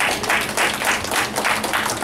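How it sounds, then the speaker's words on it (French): Church congregation applauding at a Sunday service, a steady wash of many hands clapping with slight swells in intensity over a couple of seconds. "On va bel applaudir"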